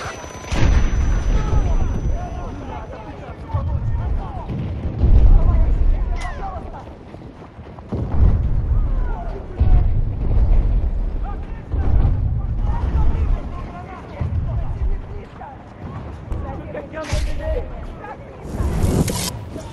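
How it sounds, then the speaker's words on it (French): Grenade blasts in the Battlefield video game, deep booming explosions repeating every few seconds across the stretch, loud and close, with rumbling tails under battle noise. "Lance une grenade."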